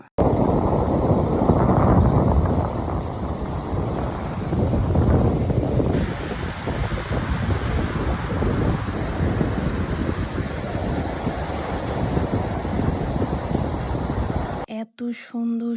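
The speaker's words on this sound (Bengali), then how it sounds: "সমুদ্রের গর্জন ঢেউ এত সুন্দর শব্দগুলো কানের মধ্যে স্নিগ্ধ হয়ে লেগে আছে" A loud, continuous roar of surf pounds the shore of St. Martin's Island, with strong wind buffeting close by and swelling rushes of breaking waves.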